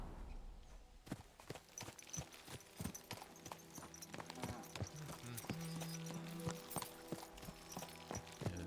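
Horse hooves clip-clop steadily in Kingdom Come: Deliverance 2, a walking gait near a cemetery, with crisp, close, rhythmic strikes and a brief whinny-like tone among them, no speech over it.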